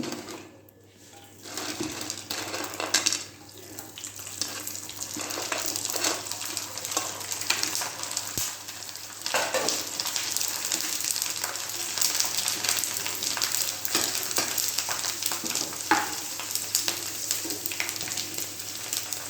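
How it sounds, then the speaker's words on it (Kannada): White gourd sandige fry in hot oil in a home kitchen, a steady close sizzle and crackle that carries on throughout, broken by occasional clinks and stirring sounds, with no voice over it. "ನಾನು ಎಣ್ಣೆ ಇಟ್ಟಿದ್ದೆ ಆಲ್ರೆಡಿ. ನಾನು ಕರೆದು ತೋರಿಸ್ತೀನಿ."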